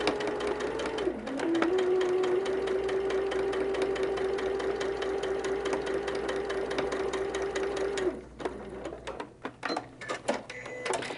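A sewing machine stitches a quarter-inch seam with a regular 2.4 stitch along the edge of a quilt block, a steady whirring hum for several seconds that stops abruptly, followed by soft handling clatter.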